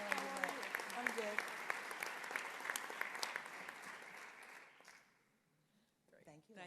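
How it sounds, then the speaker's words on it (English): An audience at an annual conference awards session claps steadily and densely for about five seconds, then the applause fades out and a voice briefly follows. "Let's give all the award recipients a round of applause this morning."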